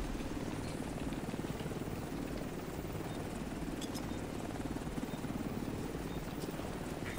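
Helicopter in The Division 2 drones steadily at a moderate distance, a constant rotor chop and engine rumble with no pauses.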